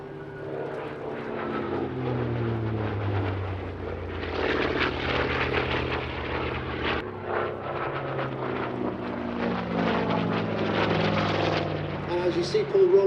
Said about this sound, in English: As you see Paul rolling the aeroplane